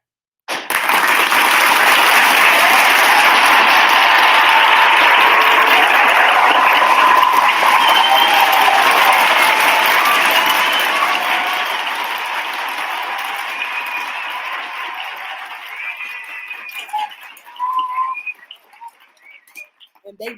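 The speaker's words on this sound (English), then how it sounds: "They deserve that applause." Sustained audience applause on a talk show discussing Met Gala looks, a dense wash of clapping that holds steady for about ten seconds before thinning out, with scattered chirpy sounds and brief voices near the end.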